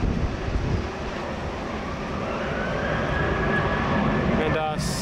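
A Qantas airliner takes off from runway 16 right at Sydney Airport, a loud continuous roar of jet engines with a rising whine, heard from a distance, with a voice over it at the end.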